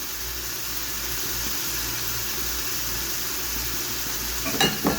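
Steady sizzle of ginger-garlic paste frying in a pan with a soft hiss throughout, ending with a couple of brief clinks and stirring sounds.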